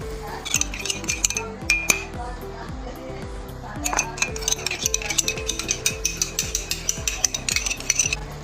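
Zarda sweet rice being tended in a cooking pot over a low flame as food colour goes in, with repeated metallic clinks and scrapes of a spoon against the pot in a steady rhythm, close and fairly loud, with some background noise.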